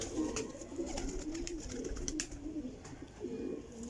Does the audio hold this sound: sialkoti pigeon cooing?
yes